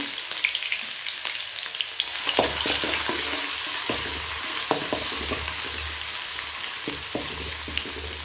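Curry leaves and ginger garlic paste hit hot oil for mutton varuval, setting off a sudden loud sizzle after a quieter start, then a sustained spitting crackle with occasional stirring scrapes.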